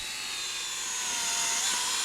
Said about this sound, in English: Star drills holes every 24 inches.